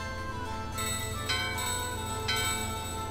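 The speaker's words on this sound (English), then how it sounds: "Bell hit. Bell's ringing!" A bell rings in Final Fantasy 9 at Gizamaluke's Grotto, with two or three bright, sustained chimes struck about a second apart that ring out with long shimmering overtones.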